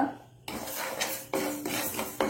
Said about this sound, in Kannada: ವೀಕ್ಷಕರೇ ನೋಡಿ, ಇದಕ್ಕೆ ಈಗ ಅಕ್ಕಿಯನ್ನು ನಾನು ಹಾಕೊಳ್ತಿದ್ದೇನೆ